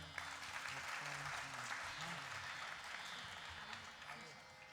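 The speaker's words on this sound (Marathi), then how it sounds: "सूरसाधना म्युझिक क्लासेसच्या या 3 विद्यार्थिनी यांच्यासाठी एकदा जोरदार टाळ्या" Audience applause for three students of a music class at a stage event, a steady wash of clapping held at a fairly faint, distant level under a low murmur of voices.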